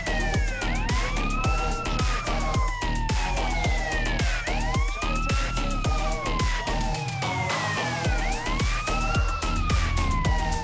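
Wailing ambulance siren from the game GTA San Andreas, looping loud and continuous with repeated rising and falling sweeps over busy in-game traffic and engine noise.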